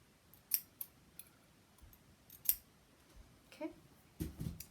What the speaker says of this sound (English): Careful not to actually cut all the way to the stitch line there. Just take out some extra fabric that we don't need in there.